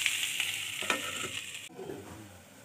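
Green peas for a ghugni cooking in a pan being stirred after the lid is lifted, a close, steady sizzle with scraping stirring strokes that ends abruptly and then drops to a softer, quieter cooking hiss.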